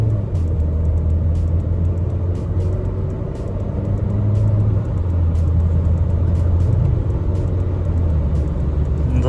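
A Renault Kadjar crossover drives along with a steady, loud low engine and road rumble inside the cabin, and its gearbox shifts smoothly with barely a break in the drone.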